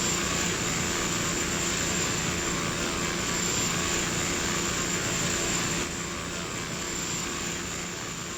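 Steady, loud drone of the Cessna Super Cargomaster's propeller engine in X-Plane 11, heard from outside the aircraft during Alaskan bush flying, constant throughout with a slight drop in level near the end.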